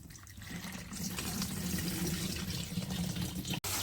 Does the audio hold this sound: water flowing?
yes